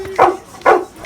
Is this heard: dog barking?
yes